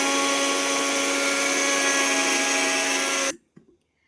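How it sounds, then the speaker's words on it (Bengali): A kitchen blender grinds dry oats with a loud, steady whir that runs for about three seconds and then cuts off abruptly, leaving a few faint clicks. "প্রথমে শুকনোটাকে ব্লেন্ড করে নিয়েছি"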